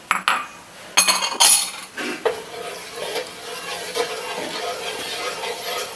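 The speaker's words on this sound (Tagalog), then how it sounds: "Haluin lang natin hanggang sa lumapot." Cornstarch slurry is stirred in a pan until it thickens, opening with a few loud metallic clanks of utensil on pan, then softer scraping and bubbling that settles into a quieter steady stir.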